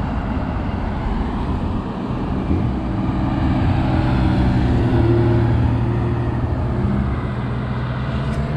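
A classic Alpine rally car with other rally cars, including a Porsche, drives past on an Alpine mountain road, a steady engine drone with tonal harmonics rising and holding, fairly loud throughout.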